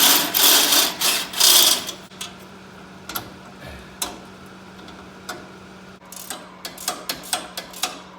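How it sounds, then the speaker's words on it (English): A ratchet wrench tightening a bolt on an off-road lawnmower transaxle skid plate, starting with a loud fast burst of clicking, then sparse individual clicks and a quicker run of ticks at the end over a steady hum. "I am ratcheting this crap in place."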